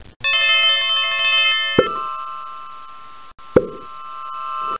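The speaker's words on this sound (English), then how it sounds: "Bell." A game-style chime in the JumpStart Reading kindergarten PC game: a sustained ringing tone, then two bright metallic bell dings with long shimmering decays, close and clear with no talking.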